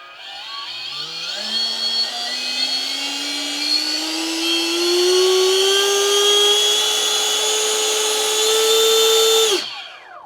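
A Hobbyking H-King Mini L-39 Albatros model jet with a 64mm 4S electric ducted fan spins up from idle into a loud, rising whine that climbs steadily for about nine seconds, then cuts off abruptly, close and alone.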